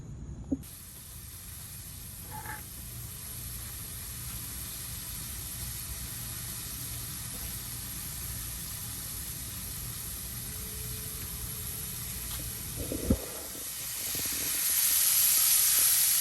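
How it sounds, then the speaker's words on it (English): Shrimp frying in a pan of oil at a campsite, giving a steady, fairly soft hiss and sizzle that swells louder toward the end, with a couple of faint knocks. "I'm gonna fry my shrimp"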